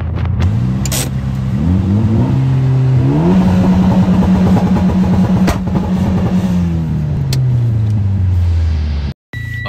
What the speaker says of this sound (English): what it sounds on two-step